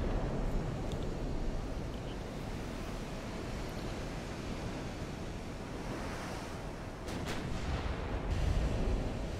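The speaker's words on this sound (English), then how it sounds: "I love the sound and the view of these guns firing" Battleship main guns fire in the naval warfare game Ultimate Admiral: Dreadnoughts: deep, distant booms that roll into a constant rumbling, ocean-like wash, with a couple of heavier swells near the end.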